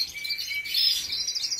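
Pet birds chirp in a dense, continuous twittering of high, bright tweets, fairly close and steady throughout, with no voices.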